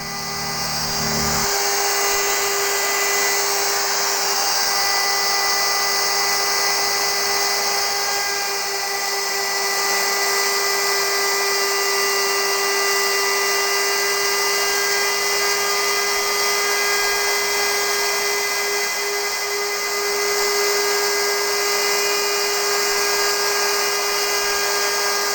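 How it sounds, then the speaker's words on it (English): A router fitted with a 3mm bit cuts into a guitar body, giving a steady high-pitched whine with a strong constant tone. It runs loud and unbroken for the whole stretch, with a brief low hum at the start. "this will be routed with a 3mm router bit"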